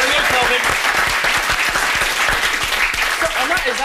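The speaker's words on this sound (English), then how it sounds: "that is actually the loudest clapping I've heard a contestant do for themselves so far" One contestant claps loudly for himself on a comedy quiz show, a fast run of sharp slaps that goes on without a break while audience noise and speech sit underneath.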